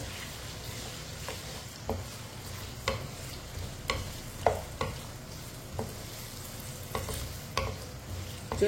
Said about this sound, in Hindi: आलूओं को 3-4 मिनट के लिए फ्राई कर लेंगे।